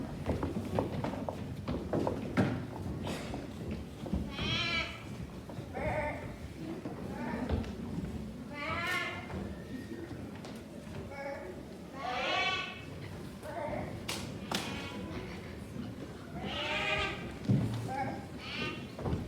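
Sheep bleat repeatedly on a farm amid a reenactment of reivers driving off a flock, several calls rising at intervals over a constant rumble of hooves, footsteps and movement, with voices faintly in the background.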